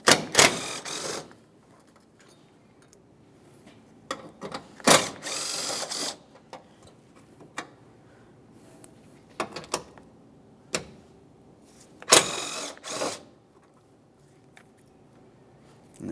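A ratchet wrench loosens the 10mm headlight mounting bolts on a Mitsubishi Lancer, giving short bursts of rapid clicking at intervals, separated by quiet stretches with faint handling knocks, close-up and without talk.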